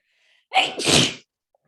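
One sharp, close sneeze with a quick intake of breath before the explosive burst, then silence.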